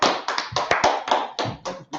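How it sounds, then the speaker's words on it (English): Group of people at a class gathering clapping in a loose, quick rhythm of about a dozen claps, close and moderately loud, with no talk. "Clap it up for the class."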